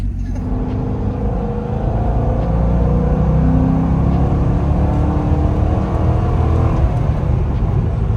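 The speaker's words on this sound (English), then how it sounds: "we're gonna give it a little sound check here, see how this MagnaFlow sounds, give it a little juice" A C6 Corvette Grand Sport with an LS V8 and MagnaFlow exhaust revs up and holds steady, with a loud, deep, continuous engine roar that swells after the first couple of seconds and stays constant throughout.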